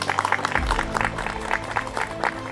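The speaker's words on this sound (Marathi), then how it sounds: "आपण त्यांचं या ठिकाणी जोरदार टाळ्या वाजवून त्यांचं स्वागत करूयात." Audience at a Thane Urban Circle Republic Day gathering claps to welcome an invited engineer, a steady stream of many hands patting close by, fairly loud and continuous, with a low hum beneath.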